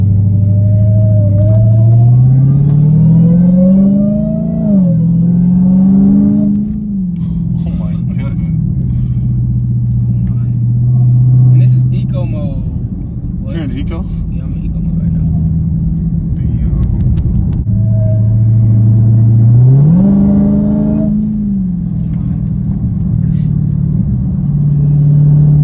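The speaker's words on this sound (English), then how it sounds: "Because I've never heard your supercharger like this before." A 2019 Dodge Charger Hellcat with a JLT cold air intake revs loudly from close by, its supercharger whine climbing and falling with the engine's rumble, while people talk excitedly over it.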